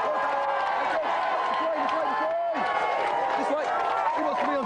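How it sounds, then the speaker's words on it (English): Studio audience applause on a British video game TV show, a dense steady wash of clapping mixed with cheers and voices, loud and continuous throughout. "give them a big round of applause"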